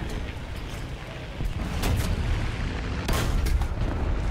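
Tank cannon fire from War Thunder, with sharp booming shots near 2 and 3 seconds rising over a rumbling battlefield bed of engine and distant gunfire, moderately loud.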